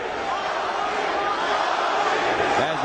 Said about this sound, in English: cheering Cung Lee's name